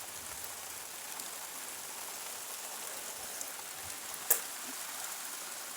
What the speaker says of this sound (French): Donc on dit bonsoir la pluie.